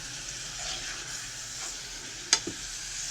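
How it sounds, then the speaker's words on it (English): Spring roll filling being stirred in a hot pan, a soft continuous sizzle under quiet scraping, with one sharp utensil clack against the pan near the end. "So here I'm going to give it all a good mix and turn off the heat."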